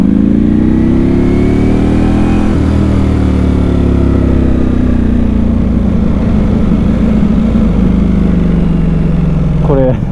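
Ducati Panigale V4S motorcycle engine rumbling loud and close in slow traffic, a continuous deep throbbing drone with gentle rises and falls in pitch, with someone talking over it.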